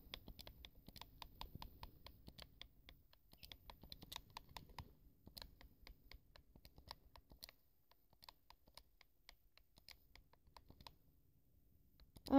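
Quiet clicking keystrokes on a computer keyboard, typed in quick irregular bursts with short pauses, fairly close and soft, with no talk over them.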